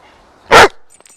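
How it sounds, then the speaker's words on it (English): One loud, sharp bark from a Bernese Mountain Dog close by, a single short burst against a quiet room. "No barking."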